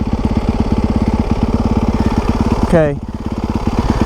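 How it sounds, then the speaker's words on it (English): A motorcycle sitting in neutral idles with a steady, close, rapid chug; partway through the engine note briefly swells and revs before settling back into the even idle, and someone speaks briefly. "So, we'll go ahead and start the bike."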